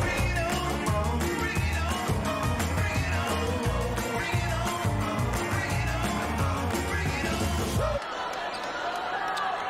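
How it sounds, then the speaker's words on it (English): Crowd noise at a high school basketball game between Providence Academy and Fergus Falls, a steady roar of cheering with sneaker squeaks and ball bounces that cuts off abruptly near the end, leaving a quieter arena hum. "Listen to the crowd."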